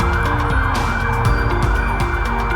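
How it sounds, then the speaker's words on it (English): Sirens pass by outside, wailing emergency tones over the rumble of road traffic, loud and steady across the short stretch with no voices. "wow, sirens going by, sorry about that."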